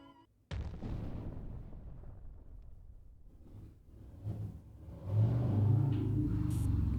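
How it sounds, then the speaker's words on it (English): A deep, loud rumbling engine starts abruptly and idles roughly, then swells louder as it revs, heavy low growl with no voices. "That is a loud car."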